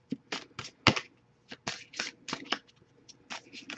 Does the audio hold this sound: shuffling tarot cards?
yes